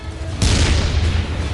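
A tank gun fires during a World War II battle, one sudden loud boom with a deep rumbling tail that fills the short clip.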